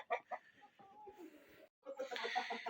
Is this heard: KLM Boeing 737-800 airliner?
no